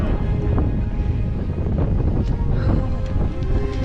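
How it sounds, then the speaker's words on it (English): Steady low rumble of wind buffeting the microphone on the Appalachian Trail, constant and fairly loud throughout with no talking. "It's getting windy."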